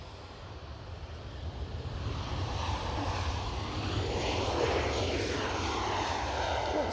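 A Ryanair airliner takes off at Edinburgh Airport, its jet roar building into a loud, steady, broad rumble that holds across the whole stretch, with no talk over it.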